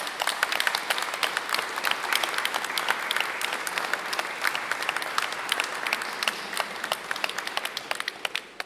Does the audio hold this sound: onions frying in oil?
no